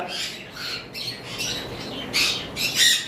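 Sun conure parrots from a breeding pair squawk loudly and repeatedly at close range, harsh shrill calls coming in bursts with the sharpest cries near the end.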